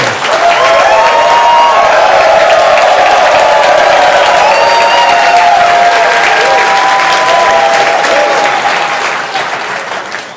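An audience applauds loudly and steadily for about ten seconds, with a few cheers mixed in, fading slightly at the end.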